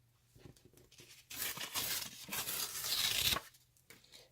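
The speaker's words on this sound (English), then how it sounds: "So I'm just going to rip some paper" Paper torn by hand in a quiet room, a long raspy rip building for about two seconds, preceded and followed by a few small crinkles and rustles.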